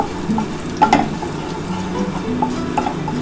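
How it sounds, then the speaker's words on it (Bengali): A dried red chilli, broken in two, fries in a little oil with a steady, fairly loud sizzle and a few light stirring taps. "একটা শুকনো লঙ্কা ভেজে নিচ্ছি"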